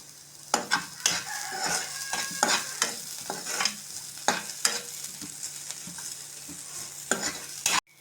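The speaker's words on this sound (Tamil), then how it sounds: "நம்ம கட் பண்ணி வச்சுருக்க பச்சை மிளகாய் சேர்த்துக்கிறோம்." Onions and green chillies stir-fry in a pan with a soft continuous sizzle broken by repeated sharp scraping and clacking strokes of a spatula, close and fairly quiet.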